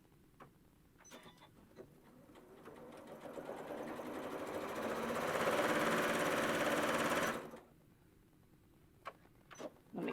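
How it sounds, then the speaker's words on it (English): A sewing machine stitches along a line of fabric, its steady whirring run building and speeding up for several seconds before stopping, with faint clicks around it. "I'm going to flip it, and I'm going to sew the other side."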